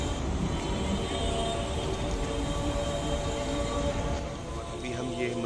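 Metro train at Muzdalifah station during Hajj, a steady loud rumble and rail hum filling the whole stretch with constant crowd noise beneath.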